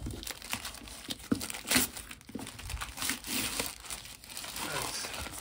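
Packaging for a Vidlent Fan X6 turbo fan crinkles and rustles up close as it is opened, in irregular bursts of crackling plastic and tearing.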